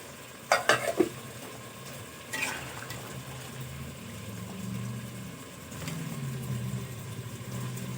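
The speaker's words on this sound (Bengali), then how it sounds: "আর দিয়ে দেবো ভেজে রাখা মাছ।" Fried pangas fish and brinjal pieces drop into a simmering potato curry with a few soft plops and clatters near the start, followed by steady bubbling and sizzling up close.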